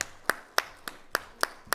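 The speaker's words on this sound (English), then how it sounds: "a nice round of applause" A conference audience in Dubai applauding panelists onstage, heard as a thin, sparse scatter of individual claps at a steady rhythm, fairly faint and distant.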